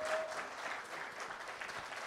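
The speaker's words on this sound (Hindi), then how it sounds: "तो सीमा जी के लिए सबसे पहले हम जोरदार तालियां बजाना चाहते हैं।" A crowd at a film music launch event breaks into brief, steady applause, soft and fairly distant, with a faint tone briefly audible at the start.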